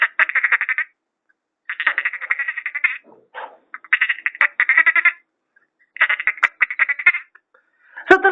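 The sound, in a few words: person imitating a frog croaking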